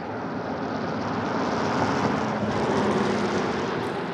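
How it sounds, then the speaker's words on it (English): Boeing 747 jet at Anchorage's Ted Stevens airport, heard as a steady broadband engine roar, moderately loud and distant-sounding, with no voices over it. "in the distance we have a 747 landing here shortly on runway 7"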